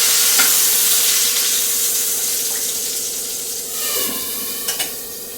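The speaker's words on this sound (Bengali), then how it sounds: "আলু ভাজছি" Potatoes frying in a pan, a steady loud sizzle close by with a watery hiss, a few soft stirring scrapes and clicks near the end.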